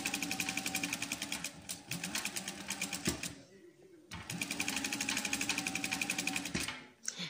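A sewing machine runs in rapid bursts as it stitches layered fabric for a hair scrunchie, with a brief pause midway. Someone talks over the mechanical whirring throughout.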